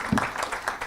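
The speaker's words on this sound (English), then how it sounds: "A huge round of applause to all of you." Audience at a business leadership panel in Pune breaks into applause, a quick burst of scattered clapping that rises and fades within a second.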